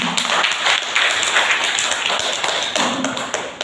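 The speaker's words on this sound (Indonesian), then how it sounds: "marilah kita beri tepuk tangan yang meriah kepada semua orang yang sudah hadir pada hari ini" Audience applause in a hall during a student communication-class presentation: a dense, steady wash of many hands clapping at once, fairly close and loud, running unbroken for several seconds with no talk over it.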